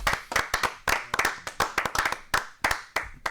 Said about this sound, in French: Venez, on l'applaudit,